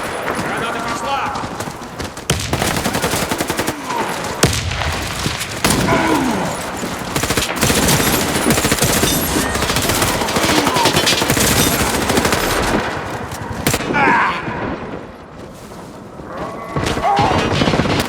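In the Warface shooter game, a grenade blast and bursts of automatic gunfire hammer away over a loud, busy battle soundscape, with shouting voices over the shooting throughout.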